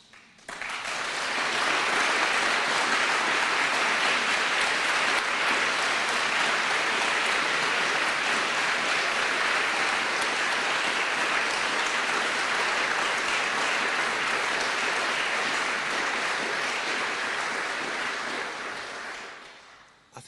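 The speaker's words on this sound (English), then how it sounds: "I think I even saw the Mayor of Liverpool clapping at that one" An audience applauds after a political speech in Manchester, a broad, sustained round of clapping that swells in, holds steady for about eighteen seconds and fades away.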